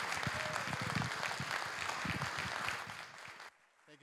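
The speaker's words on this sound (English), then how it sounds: "give a very grand round of applause to the moderator who has agreed to do this" An audience at a school board candidate forum applauds, a dense spread of clapping that holds steady for about three seconds before thinning out and stopping.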